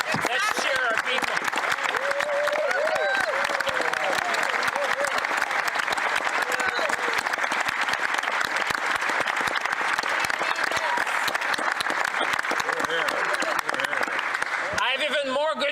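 Members of Canada's Parliament applaud loudly and continuously during the federal budget speech, a dense, steady roar of clapping that fills the chamber for the whole stretch before briefly tapering at the end.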